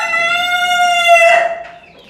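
A hen in a coop, just after laying eggs, lets out a single loud, drawn-out, nasal call close by that rises and then breaks off, with no talking.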